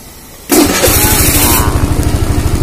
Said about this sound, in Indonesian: Nah, baru kita bisa hidupin engine-nya.